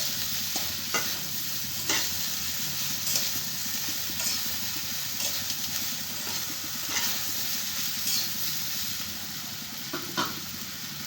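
Turmeric is stirred into food frying in a pan: a steady sizzle with repeated scraping strokes throughout, close by and with no speech.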